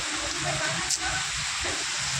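A downpour in Mehsana fills the air with a loud, unbroken roar of falling water, close by and constant, with a faint brief knock partway through.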